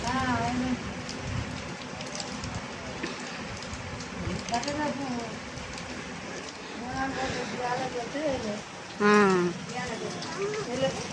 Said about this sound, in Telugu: వర్షం అయితే పడుతుంది